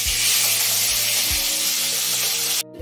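Fish lightly frying in hot oil, a steady close sizzle with soft low pops that cuts off abruptly near the end.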